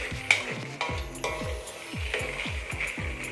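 Peanuts roasting in a pan, rattling and scraping as they are stirred, with rhythmic sweeping strokes over a soft sizzle, close up and with no voices.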